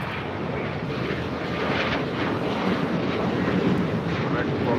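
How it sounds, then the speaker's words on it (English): American Airlines Boeing 737-800 jet taking off at LAX, a loud, steady broadband engine roar that swells slightly over several seconds, with wind rumble on the microphone. "This is American Airlines 1292 taking off to Nashville, Tennessee on a 737-800"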